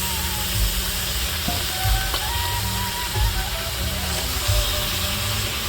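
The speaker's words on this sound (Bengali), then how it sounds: "মাংস ধুয়ে পরিষ্কার করে নিয়ে চলে এসেছি, আর এটা এখন দিয়ে দেবো ঢেলে।" Washed chicken meat goes into hot spiced oil in a village cooking pot, producing a steady, close sizzling hiss with soft bubbling and faint stirring thumps throughout.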